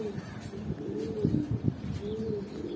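A male pigeon coos repeatedly at a pigeon loft, its soft rolling calls rising and falling steadily over a low, busy murmur of other birds.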